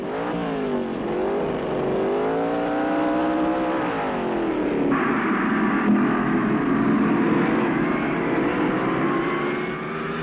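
Pro Stock drag race cars from the 1970s accelerate hard down the strip, their loud engines climbing in pitch and dropping at each gear shift, a continuous roar with no talk.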